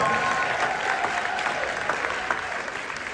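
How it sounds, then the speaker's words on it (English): Applause from a large audience for the Cicely Tyson School of Performing Arts choir at a city address, dense steady clapping that fills the room for the full few seconds. "Give our Cicely Tyson School of Performing Arts choir a round of applause."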